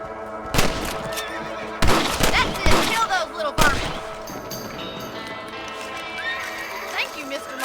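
A horse neighs and whinnies several times in the Western video game Red Dead Redemption, loud sharp calls mixed with hoof clip-clops and a few gunshot-like bursts, then a quieter rolling stretch.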